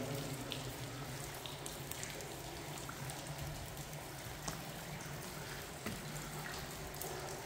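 Steady rain falling, heard from inside the Lydgate railway tunnel, a dense continuous hiss of drops with occasional louder splashes, no voices.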